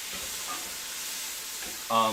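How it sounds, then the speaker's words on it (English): Garlic and onions frying in a pan, a soft steady sizzle near the cookware with a brief louder clatter at the very end. "Throw our garlic in to fry up for like half a second"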